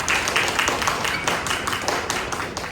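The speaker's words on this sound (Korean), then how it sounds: "박수 부탁드립니다." Audience at a spring-semester international school admissions briefing claps together to welcome the parents' association chair, a dense, steady patter of many hands held at even loudness throughout with no talk over it.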